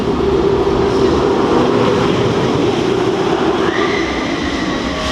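Roller coaster train rolling on nylon wheels at Walibi Belgium, a loud continuous roar with rumbling and a high squealing tone rising near the end, no voices.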